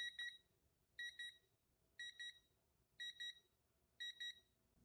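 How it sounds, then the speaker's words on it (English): A kids' visual countdown timer alarm beeps in repeating bursts, about one per second, each a quick cluster of high, bright tones, fairly loud and alone. "When the time is up, you will get an alarm."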